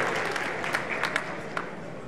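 An audience claps at an awards recognition ceremony for Hatzalah volunteers, a brisk, continuous patter of many hands with a few crisp individual claps, moderately loud and steady for about two seconds.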